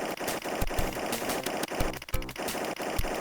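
Rapid machine-gun bursts from a Sega RoboCop video game boss fight against two robots, loud and repeated in short rattling volleys with brief gaps, no voices.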